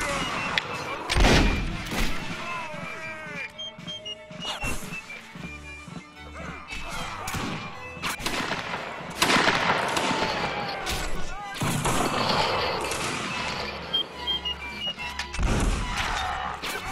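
Musket gunfire in a multiplayer line-battle video game, repeated sharp cracks and heavy booms going off near and far in irregular volleys, with clattering impacts and players talking over the din.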